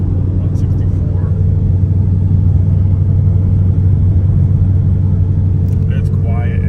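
Steady low rumble of a 2020 Ford Mustang GT cruising in tenth gear on Thompson tires, heard from inside the quiet cabin, with continuous tire road noise and no talking.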